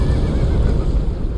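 A horse in the video game Elden Ring (Shadow of the Erdtree) neighs and whinnies amid loud, dense game combat noise, with no one speaking over it.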